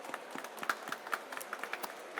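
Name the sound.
applause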